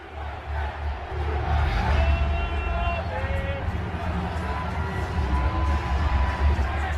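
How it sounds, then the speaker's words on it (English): A large stadium crowd roars before a Redskins vs Packers football game, a sustained wash of cheering and babble with rising shouts and whoops, heard from a broadcast booth. "Let's listen to the crowd."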